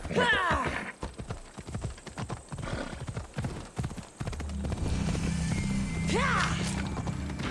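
Hooves clip-clop in a quick galloping rhythm in the video game Odyssey, then fade as a horse whinnies and a low droning tone takes over.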